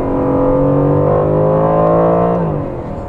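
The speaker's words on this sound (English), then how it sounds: "The engine actually definitely sounds better than it did in the AMG GTS." A 2019 Aston Martin Vantage sports car revving close by, a loud steady engine tone holding high and then dropping away near the end.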